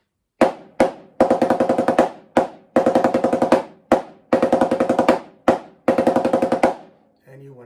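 Snare drum exercise for the nine stroke roll: single eighth-note strokes alternate with rapid buzzing roll bursts, repeating in a steady pattern, close and loud with no talking.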